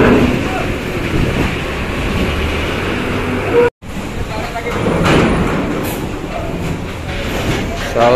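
KMP Jatra 3, a passenger ferry, sailing with a loud, steady rumble of engine and water noise mixed with wind buffeting the microphone, broken by a brief full dropout partway through.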